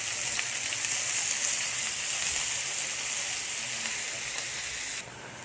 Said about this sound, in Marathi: मोहरी तडतडली की त्याच्यामध्ये आपल्याला एक मोठ्या आकाराचा कांदा असा बारीक चॉप केलेला फ्राय करून घ्यायचा